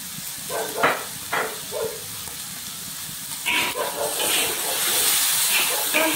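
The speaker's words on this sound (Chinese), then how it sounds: "翻炒至蒜色" Pork tongue stir-fried in a hot wok, with a steady hiss and sizzle that swells louder in the second half, broken by scraping stir strokes early on.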